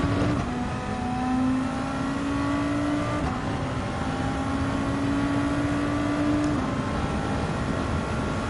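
Race car engine in Gran Turismo 7 during a Nations Cup exhibition race, droning at steady high revs with a sustained engine tone that shifts pitch briefly around gear changes, loud and continuous with no talk.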